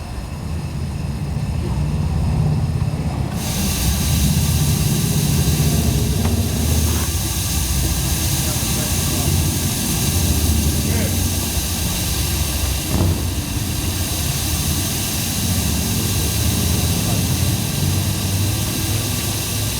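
Vanderbilt Racer steam engine running steadily after its valve is opened, a loud continuous roaring hiss of steam and machinery that holds for the whole stretch with only small surges.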